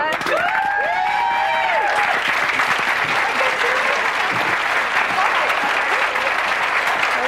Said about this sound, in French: On applaudit les gens.